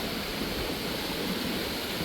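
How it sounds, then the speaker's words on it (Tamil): Floodwater rushes out of a forest during a cyclone, a loud, steady, dense roar like a waterfall that carries on without a break and drowns everything else. "பயங்கரம் அடிக்க ஓடுது வெள்ளம்"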